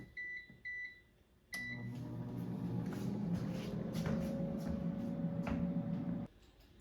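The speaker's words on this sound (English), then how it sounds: "now I'm going to put the basket in the air fryer" A Trader Joe's garlic gondolas batch cooks in an air fryer at 400°F, opening with a few short beeps before a steady fan hum starts and runs evenly for about five seconds, with faint clicks, then cuts off.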